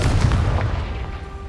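A Confringo fire spell detonates in Hogwarts Legacy, a heavy low boom that rolls out over about a second and a half, loud and close, then fades into a dull rumbling tail.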